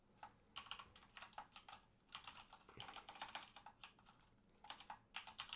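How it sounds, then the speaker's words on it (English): Fingers type on a computer keyboard in quick bursts of close, crisp key clicks with short pauses between runs, quiet overall and with no talk. "I can't even type my last name."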